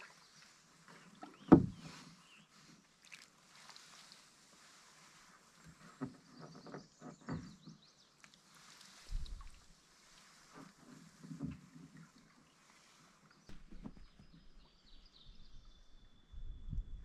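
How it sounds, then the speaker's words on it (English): A canoe paddles slowly down a river in Algonquin Park, with soft, irregular paddle strokes and water swishes that sound faint and close, alongside light wind and occasional distant birds. "So I'm gonna slowly paddle down and keep fishing as I go."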